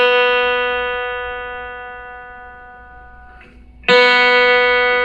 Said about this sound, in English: Now we're going to go to the 2nd string, or B